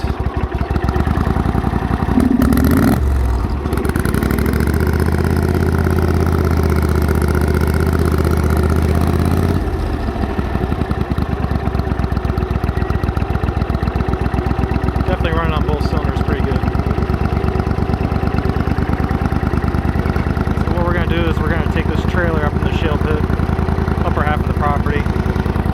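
A 20 hp Briggs & Stratton Vanguard twin-cylinder engine runs steadily after a carburetor repair, with a continuous close, loud low drone and occasional clatter. Someone talks over it now and then.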